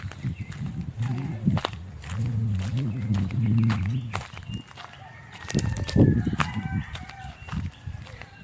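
Chickens cluck and a rooster calls near and far, with scattered bird chirps and rustling footsteps around them in an open outdoor space.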